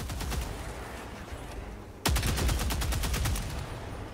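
The Adjudicator rifle in Helldivers 2 fires fast, loud automatic bursts. One stream of shots stops briefly, then a sharper, louder volley begins and keeps going at a close, steady rhythm.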